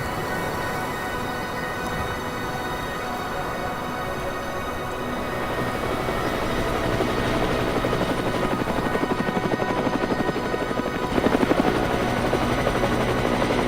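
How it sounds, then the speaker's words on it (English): A helicopter flies over alpine mountain terrain of cliffs and trees, its rotor chop steady and close, growing louder and more pulsing over the final seconds with no voices. "Flying over the zone in the heli with Rob, Dave, and Brett"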